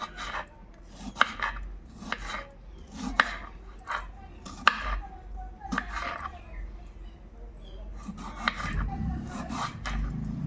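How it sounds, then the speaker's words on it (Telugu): Knife chopping half a kilo of tomatoes on a board in a home kitchen, with irregular bursts of close, crisp cuts and thuds spread across the clip. "తర్వాత టమాటాలు కట్ చేసుకుంటున్నాను."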